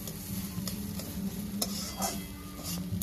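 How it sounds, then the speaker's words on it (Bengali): Spice paste of ground dried and fresh green chillies stir-fries in oil in a pan for broccoli prawn, making a continuous close sizzle broken by a few brief spatula taps and scrapes, with no speech. "মশলাটা ভালো করে কষানো হয়ে গেছে"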